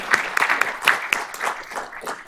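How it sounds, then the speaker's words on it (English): A small audience at a board of trustees meeting claps briefly, a sparse scattered patter of individual hand claps that stays moderately close and thins out quickly. "Let's give him a round of applause"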